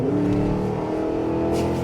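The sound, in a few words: 2023 Cadillac Escalade-V engine accelerating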